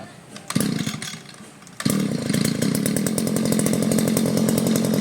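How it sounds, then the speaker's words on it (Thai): A second-hand Japanese grass trimmer's small two-stroke engine catches after a couple of pull-start attempts, then runs at a steady, loud, buzzing idle close by. "สตาร์ทเลย ติดแล้ว"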